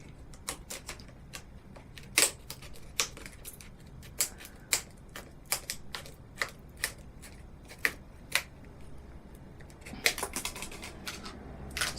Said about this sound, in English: So let's try to open those dreaded blisters